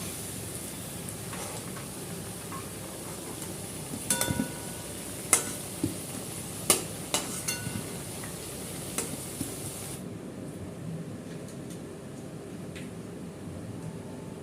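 Cinnamon, cloves, cardamom and bay leaf sizzle in hot oil for Bengali dhokar dalna, a steady soft frying hiss with a handful of sharp crackles and pops, the sizzle quieting toward the end.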